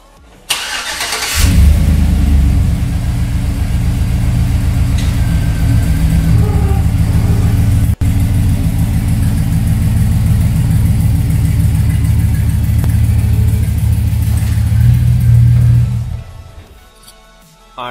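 A 2007 Chevrolet Silverado pickup's engine starts and runs steadily as the truck creeps forward, a loud, close, continuous low rumble lasting about fifteen seconds before cutting off.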